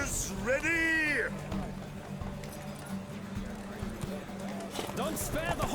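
Horses gallop in a race in The Witcher 3 video game, hooves clattering in a steady drumming rhythm under a busy mix of game sound and voices, with a horse whinnying near the start.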